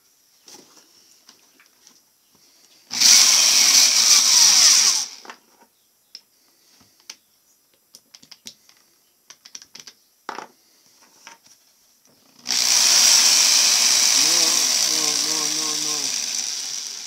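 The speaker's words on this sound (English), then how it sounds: "That grinder will grind that way, grind that way," Grinder running in two loud sustained bursts, first about two seconds long, then a longer run continuing to the end, with scattered clicks and knocks in the quiet gap between them.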